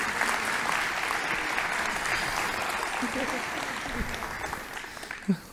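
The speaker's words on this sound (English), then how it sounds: "Round of applause for our volunteers." An audience at a church gathering applauds volunteers, a steady wash of clapping that holds for several seconds before thinning out, with a faint thump near the end.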